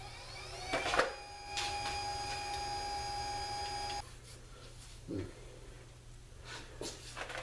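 A small lathe turns under cutting load, with a steady motor hum and tonal whine carrying through the first half, then the drive drops away to a quieter, rougher rumble with brief scraping bursts from the chisel.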